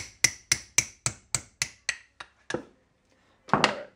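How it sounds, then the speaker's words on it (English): A metal hammer taps a kingpin on a Datsun truck in a steady run of about eight sharp, ringing strikes, then a couple of looser knocks after a short pause. "I can hit on this with a metal hammer, that doesn't matter. I'm just going to tap it out there."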